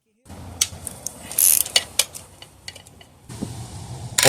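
A ratchet wrench loosening a cylinder head bolt on a Toyota Sienna 3.3L engine during a teardown, giving a series of close metallic clicks and clanks at an uneven pace, with a low rumble of background noise.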